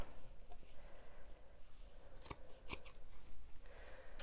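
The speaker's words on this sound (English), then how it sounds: "And then I'll get my snips and trim those off." Metal snips trim the angled fabric corners off an overlocked summer romper, giving a few sharp close snips, including two distinct cuts near the middle, over quiet room background.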